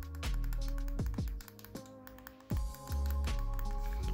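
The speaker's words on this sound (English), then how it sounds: "they are fairly small, and they make a fun sound" Small shoulder buttons on an RG35XX H retro handheld click sharply and crisply, about eight distinct presses in an irregular rhythm, close and fairly quiet.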